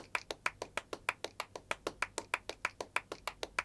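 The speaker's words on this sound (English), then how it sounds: "Just like little claps" Electronic drum kit clap samples from a human body rhythm effects set in Logic Pro, a steady run of about twenty crisp, evenly spaced handclaps, close and dry, with no talking.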